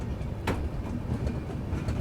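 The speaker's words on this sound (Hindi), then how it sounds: "Korba Yesvantpur Wainganga superfast express" The Korba-Yesvantpur Wainganga Superfast Express passes close by with a steady, loud rolling rumble of wheels and wagons. The noise is continuous for the whole stretch, with no voices.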